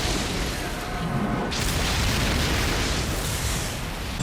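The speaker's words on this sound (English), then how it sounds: "Damn, it's a huge explosion." A huge anime explosion, a chakra-infused clay bomb going off in Naruto Shippuden, roars as a dense, loud blast that surges sharply partway through, then rumbles on continuously before cutting off abruptly.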